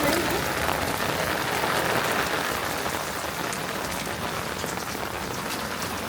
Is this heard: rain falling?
yes